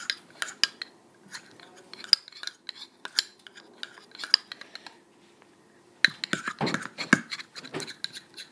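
A small utensil stirring tinted lip balm in a little container, producing sparse light clicks and scrapes in irregular bursts that pause, then come back quicker and denser near the end.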